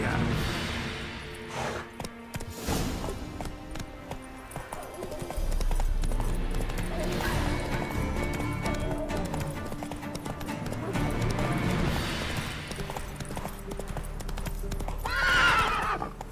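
Geralt's horse Roach in The Witcher 3 gallops with rapid clip-clopping hooves and gives a loud neigh near the end, all beneath swelling game music.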